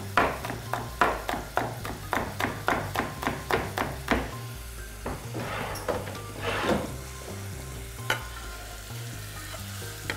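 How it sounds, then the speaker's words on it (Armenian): A knife slicing a hot chili pepper, seeds left in, into rings on a cutting board: a quick, even run of close sharp chops that then slows to a few scattered cuts. "այսպես օղակաձև կտրատում ենք և լցնում կացսայի մեջ"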